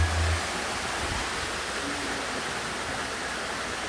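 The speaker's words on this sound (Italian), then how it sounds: "Bello anche qua, un'altra cascata, tutte acque naturali" Natural thermal water pouring down a waterfall at a hot springs resort near Arenal Volcano, a steady broadband rush of falling water, constant and fairly close, with no talk.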